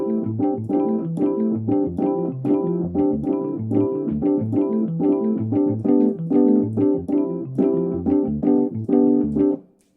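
Electronic keyboard groove on one sustained, steady rhythmic pattern, the left hand shifting the harmony underneath while quick grace notes ornament the chords; loud, close and continuous for about ten seconds with no talking, stopping abruptly at the end.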